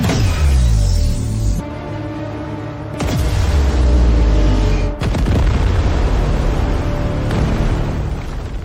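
Heavy explosions from a Korean air force strike in a war drama sound effect, a sequence of loud deep booms with rumbling roars between them, sustained and dense for several seconds with no talk.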